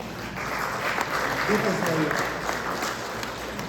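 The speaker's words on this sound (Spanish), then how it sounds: "Dense un aplauso a ustedes mismos, por favor." Audience applause at a catechism session on the Eucharist, where attendees clap for themselves; a steady wash of clapping with a faint voice heard underneath midway.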